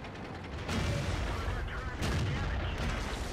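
Two heavy tank cannon shots in World of Tanks, on the Himmelsdorf map, fired from a Type 59 medium tank, each a loud booming blast about a second apart over a rumbling engine and mechanical clatter.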